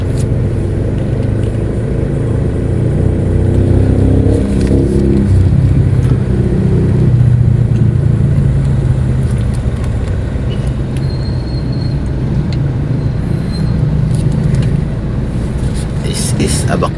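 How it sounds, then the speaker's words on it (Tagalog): Steady road traffic flowing along Araneta Street in Bacolod City, Philippines at 5 pm, a continuous loud rumble of car and vehicle engines passing close by, with no talk over it. "maliwalas na po ang daloy ng trapiko dito"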